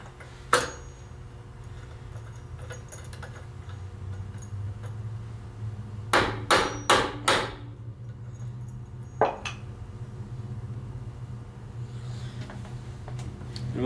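A hammer drives a Ford tractor's wide-front row-crop steering arm onto its axle spindle. There is one sharp metallic blow, then a quick run of four, then a single later strike, all over a low hum of the shop.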